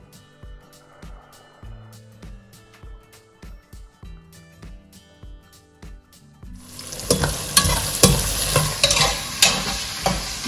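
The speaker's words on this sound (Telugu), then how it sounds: "మన ఉల్లిపాయలు కొద్దిగా వేగాలి, సో ఒక 2 minutes వేయించుకుందాం." Chopped onions and green chilies hit hot oil with spices in a pan, bursting into a loud, dense sizzle over the last few seconds after quieter stirring and tapping at the start.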